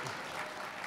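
Audience applause fills a hall at a university gathering, a brief steady wash of clapping from many hands with no break.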